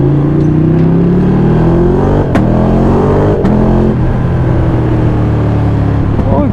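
A roadster's engine drones loudly and steadily with rising and falling revs, heard close up from aboard while driving, with two brief sharp clicks partway through.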